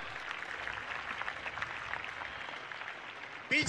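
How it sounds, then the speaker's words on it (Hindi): An audience at a scout program claps together, a dense, steady wash of hands that keeps going for several seconds with no talk over it. "एक साथ ताली बजा।"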